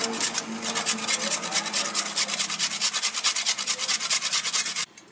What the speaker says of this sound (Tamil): காய் சீவிரத்தில் வச்சு நல்லா சீவி எடுத்துக்கலாம்